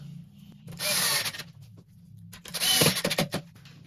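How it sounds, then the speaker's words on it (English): Power drill driving screws into a door striker plate while a modern doorknob is installed: two short whirring bursts close by, each about a second long and ending in brief stuttering clicks, with quiet gaps between. "Next, we're just gonna secure this with a couple screws."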